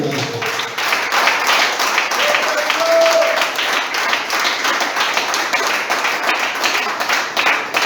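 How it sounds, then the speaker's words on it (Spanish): Church congregation applauding together, steady dense clapping sustained throughout, loud and close, with scattered voices mixed into the crowd. "Aplaudan."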